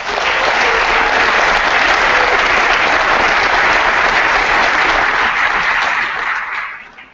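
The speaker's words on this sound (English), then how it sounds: "let's give the students a round of applause" At a Leyden High Schools AP District of the Year award ceremony, a large audience gives the students sustained, loud, dense applause that holds steady for several seconds, then tapers off at the end.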